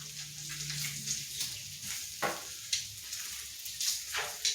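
Smash burgers sizzle steadily on a griddle, with a soft continuous hiss broken by sharp intermittent scrapes and clicks, heard fairly quietly with no talking.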